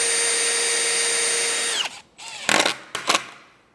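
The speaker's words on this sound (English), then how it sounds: "we're gonna come in with that pilot hole and countersunk bit" A power drill fitted with a countersink bit bores pilot holes into bed frame slats, running at a loud steady whine for nearly two seconds before winding down, followed by two short bursts of drilling.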